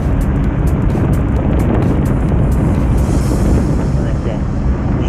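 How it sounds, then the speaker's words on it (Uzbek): Loud, constant rumbling wind buffets the microphone throughout, a dense low roar with no clear voices standing out. "Sal shovqin bo'lishi mumkin, shamol."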